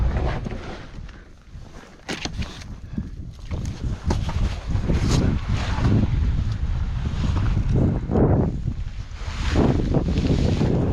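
A breezy spring evening outdoors in Kansas during a turkey hunt, with a steady, loud rush of wind buffeting the microphone and low gusty rumbles swelling and easing throughout, no talking.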